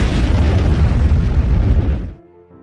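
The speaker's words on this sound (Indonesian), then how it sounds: "terjadi ledakan yang begitu besar" A loud, deep explosion of a land mine being moved into a car roars and rumbles continuously, then cuts off abruptly into near silence.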